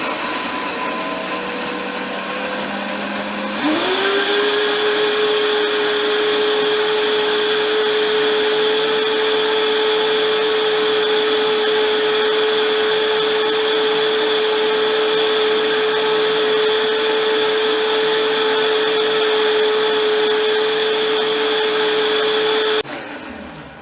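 A countertop blender purees a raw vegan blackberry cheesecake filling. After a lower start, the motor climbs to a loud, steady, high whine that holds for about twenty seconds before cutting off.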